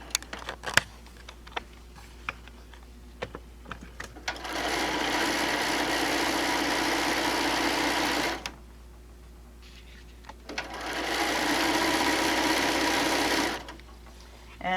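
A sewing machine stitches a quarter-inch quilt seam in two sustained runs of steady mechanical whirring, separated by a short pause, after a few light clicks and taps at the start.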